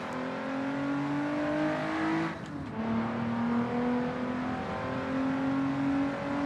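An Austin-Healey 3000 Lightweight race car engine in Assetto Corsa drones steadily at high revs, with a short lift and shift midway before the pitch climbs again, loud and continuous.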